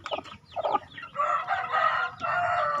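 Chickens clucking and a rooster crowing close by, with a burst of short calls followed by longer, sustained crowing notes, near a clutch of seven newly separated chicks.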